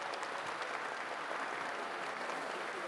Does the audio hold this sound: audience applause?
yes